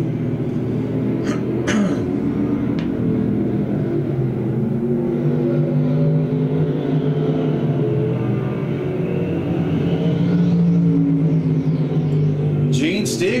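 Stock cars roar around the dirt oval at Thunder Hill Speedway during a heat race, a steady droning engine rumble with cars sweeping past, under continuous talk from an announcer.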